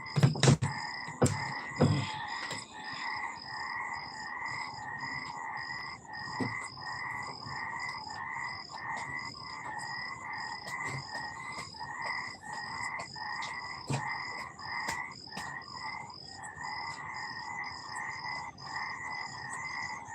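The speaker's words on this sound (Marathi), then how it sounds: "बेडूक ओरडत आहेत हा तळ जवळ आहे ना पाण्याचा" Frogs croak in a steady, rapid rhythmic chorus near a pond, continuous throughout, with occasional sharp clicks and knocks close by.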